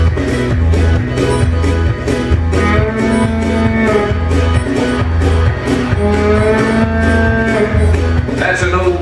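A fiddle imitates a cow mooing during a live country performance by a bar band, with repeated drawn-out bowed moo-like phrases over a rhythmic pulsing backing, loud and prominent.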